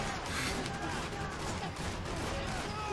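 Muffled gunfire rattles through a nightclub shootout in Max Payne 3, a steady blur of shots and game noise under a faint voice.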